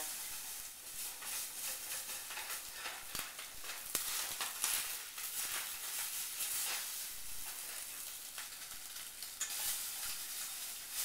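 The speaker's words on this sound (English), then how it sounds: "I am scraping out the fish because it'll be nice and crisp." Tilapia fillet crackling as it fries in a hot pan, with steady bright sizzle and intermittent scraping strokes of a utensil across the pan surface, close and continuous without speech.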